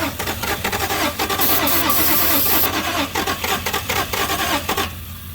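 A Toyota Supra that has sat unused for 27 years cranks and catches, its engine sputtering loudly and unevenly as it struggles to stay running.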